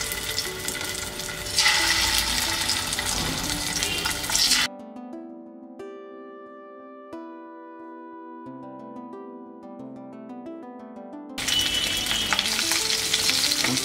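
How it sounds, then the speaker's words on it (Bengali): Taki fish frying in hot mustard oil, a loud dense sizzle at the start and end with a long stretch of music in between, no voices. "তেলটা গরম হয়ে গেছে, এখন আমি এতে টাকি মাছগুলো এক এক করে দিয়ে দেব।"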